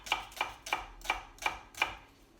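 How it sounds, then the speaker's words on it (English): Six evenly spaced knife chops strike a cutting board as an onion is cut small for mushroom soup, each a crisp, close thock about a third of a second apart. "let's get our onion cut. I'm going to cut it fairly small"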